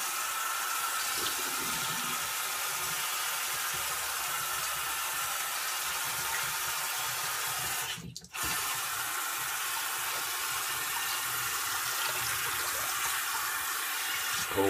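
Cold water runs steadily from a tap as a constant broad hiss that fills the whole stretch, with one brief break in the flow partway through and no talking.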